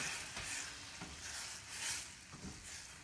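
Cold butter, three tablespoons, melting and sizzling in a pan for a quick white wine lemon butter sauce, a soft continuous crackle with faint scraping pulses, no talking.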